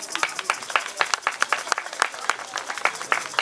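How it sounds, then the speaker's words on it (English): An audience at a poetry and spoken-word festival claps steadily for several seconds, with dense, lively hand claps and no voice on top. "give yourselves a nice round of applause"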